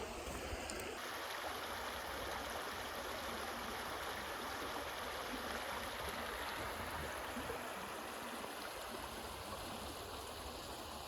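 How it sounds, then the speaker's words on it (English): A river runs beside a woodland trail as a continuous, broadband rush of flowing water, close and steady throughout with no voices. "This is really pleasant, next to the river"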